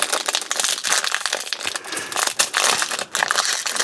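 Foil wrapper of a 2023 Topps Series 1 baseball card pack crinkles and tears open, a loud, continuous close-up rustle lasting several seconds with sharp rips and no talking.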